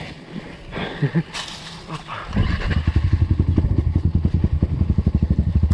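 A Kovi Advance 300 motorcycle ridden through a forest, starting with rustling and thuds, then its engine revving hard with a loud, rapid pulsing throb up close.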